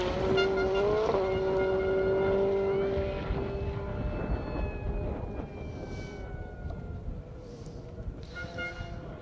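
A Citroen rally car races along a gravel stage of a Welsh rally championship event, its loud engine note rising and falling as it passes close by and then fades into the distance.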